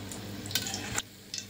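Vadas frying in oil over a low flame, a steady soft sizzle with brief stirring clatters, close and alone with no voices.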